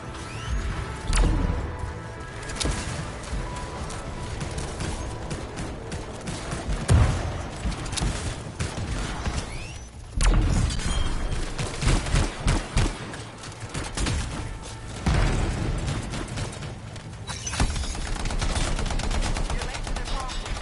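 Sustained gunfire from a distant video game battle, a dense crackle of bursts and machine-gun rattle running for about twenty seconds, with heavier booms at moments and voices talking over it.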